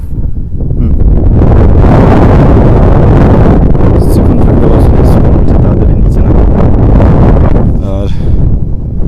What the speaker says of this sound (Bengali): এখন টেম্পারেচার রয়েছে -6 ডিগ্রি এবং বাতাসও বইছে খুব